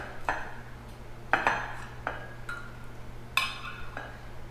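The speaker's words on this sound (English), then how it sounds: "let's slice it right across the middle here" A knife slices across the middle of a Boar's Head Reuben panini sandwich, heard as a few sharp clinks and scrapes against the plate over a low background hum.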